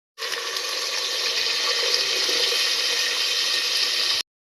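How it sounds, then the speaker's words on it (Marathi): Water poured into a pot of sautéed dal khichdi, a loud, close, continuous pouring rush that starts abruptly and stops after about four seconds. "आता पाणी टाकून घेणार आहे याच्यात."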